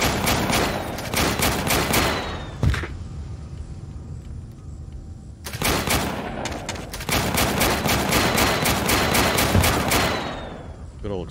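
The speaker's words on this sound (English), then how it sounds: "Good old explosive ammo." Dense bursts of explosive-ammo gunfire from massed squad units in the video game Warpips, loud and continuous rapid volleys with a brief lull in the middle before the barrage resumes.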